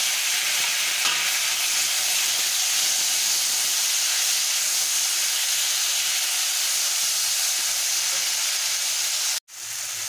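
Chopped tomato goes into browned garlic frying in hot oil for a Rasuni Latha fish curry, a loud continuous sizzle and hiss up close that cuts off abruptly near the end.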